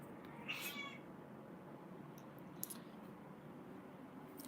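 A cat meows once clearly and close, followed by a faint second chirp later over a quiet indoor hiss.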